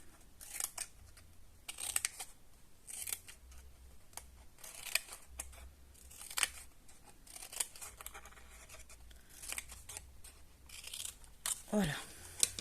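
Scissors cut paper at an angle, giving a series of short, close snips and rustles spread across the clip, with brief pauses between cuts and a little quiet talk.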